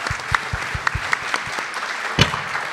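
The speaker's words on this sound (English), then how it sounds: "Please join me in a round of applause for our panelists." Applause from a conference audience for panelists on the main stage of an EU space event, a moderate, even patter of many hands with a few sharper individual claps standing out, no talk.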